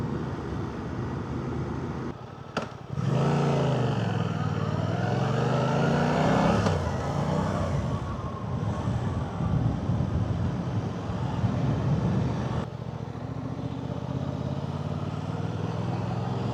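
A Suzuki GSX 8TT motorcycle on a commute, its engine note rising and falling steadily near the rider with continuous road and wind noise, a sharp burst of revving early on and no talking.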